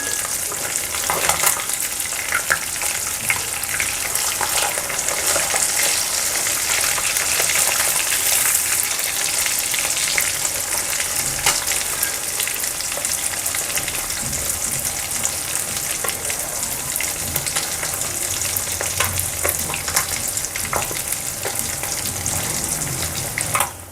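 Fish fries in hot oil in a pan as it is stirred and turned, giving a constant close sizzle with scattered crackles and scraping stir noises running steadily throughout.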